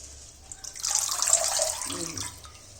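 Mustard greens for sarson ka saag are lifted out of a bucket of washing water, a short close splash and trickle of dripping water that swells and then fades, with no talk.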